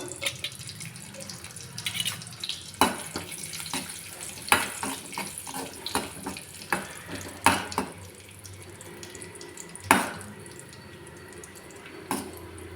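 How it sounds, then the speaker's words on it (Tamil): Raisins frying in ghee for paruppu payasam make a soft, crackly sizzle broken by several sharp clatters of a spoon against the pan, fairly close, no talking. "திராட்சை இந்த மாதிரி பொறிஞ்சு வரட்டும்"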